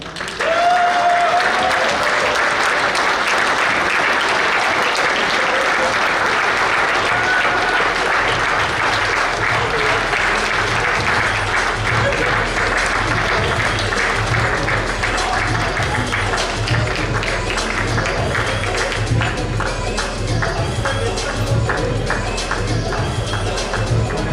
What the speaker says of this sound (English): Please rise and join me in a huge applause